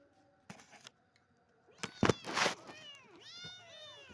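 A cat in a kitchen gives several close, rising and falling meows, mixed with rustling and soft clatter, while a person talks to it.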